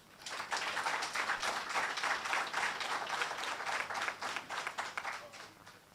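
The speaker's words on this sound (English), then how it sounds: "Please give her another round of applause." A room full of people at an entrepreneurship grants ceremony applauds steadily for several seconds, a dense wash of clapping that starts abruptly and stays even throughout.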